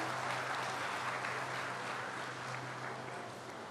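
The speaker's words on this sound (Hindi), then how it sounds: "जोरदार तालियां एक बार हमारे मौजूद अतिथिगण के लिए।" A dense, steady wash of clapping from a crowd at a free medical health camp event, sustained throughout and slowly tapering toward the end, with a low hum underneath.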